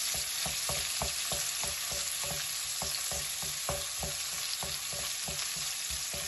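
Onion, cumin and fennel fry in a pan for prawn puttu, giving a dense, steady sizzle with regular scraping stirs close by and no voices.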